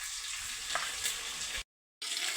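Masala sautéing in oil on a low flame, a close, steady crackle of frying with a few stirring scrapes, broken by a brief silent gap before the sizzle resumes.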